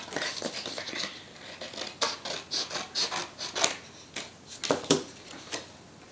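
Scissors trim excess paper from a covered book, giving a series of short, crisp rasping snips in an uneven rhythm, close and fairly quiet with no talking.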